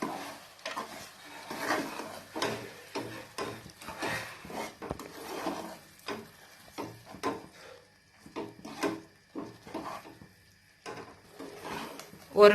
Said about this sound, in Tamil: ஒரு நிமிஷம் இதை இப்படியே பெரட்டி விட்டுட்டே இருங்க, அப்பதான் நல்லா பச்சை வாசனை எல்லாம் போகும்.